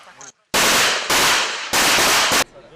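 Automatic rifle fire at a military training range during reservist combat drills: several loud, close bursts of rapid shots, each lasting about half a second, separated by brief gaps.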